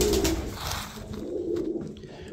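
Uzbek pigeons at their feeding area cooing, soft low repeated coos close by over a rustling background of birds moving about.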